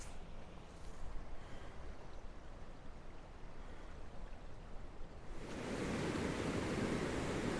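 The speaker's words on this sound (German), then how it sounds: "Ja, das Wasser fließt hier ordentlich drüber." Floodwater rushes over the Wegeleben weir on the Bode river, a constant low roar that starts distant and faint, then jumps much louder and nearer as the weir comes close.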